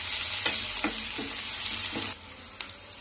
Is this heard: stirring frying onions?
yes